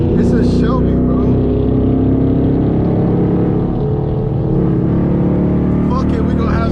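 A Shelby Mustang GT500 on a freeway at night, its engine a loud, steady low rumble with rising and falling revs and road roar, heard from close range while people talk over it.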